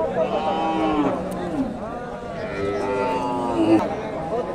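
A cow mooing in long wavering calls at a busy outdoor cattle market, loud and close, with the hum of a crowd and people talking throughout.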